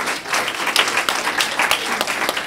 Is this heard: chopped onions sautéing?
no